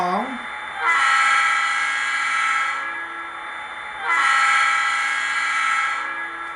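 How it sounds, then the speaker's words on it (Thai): Two long blasts of a model train horn from a ScaleTrains HO-scale EMD SD40-2 locomotive with LokSound, each a rich, sustained multi-tone chord lasting about three seconds, loud and close. "เสียงแตรเขาจะมีความกังวานเหมือนจริง มากยิ่งขึ้นและเสียงไม่แตกนะครับ"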